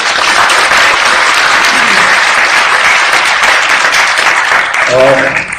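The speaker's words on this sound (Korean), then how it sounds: "우리 청년들 박수 좀 부탁드리겠습니다" A large audience claps loudly and steadily for young participants at a progressive political forum, a dense continuous wash of applause that holds from start to finish, with a few voices showing through near the end.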